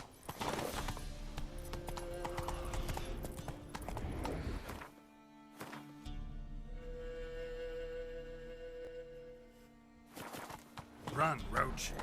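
In The Witcher 3 video game, the horse Roach gallops with rapid rhythmic hoofbeats, then slows to trotting and clip-clop steps, while a player speaks over it.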